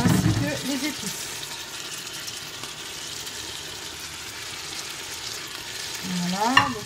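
Chickpeas and spices being stirred in a cooking pot for Algerian kbeb, a steady soft sizzle with scraping under it throughout, a louder clatter at the start and a brief voice near the end.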